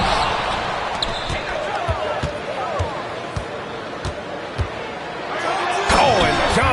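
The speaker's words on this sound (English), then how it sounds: "Oh, and Johnson slams it in." Basketball bouncing hard on the court during an NBA game between the Wizards and Mavericks, a series of sharp thuds and a rim slam over crowd noise and squeaking sneakers.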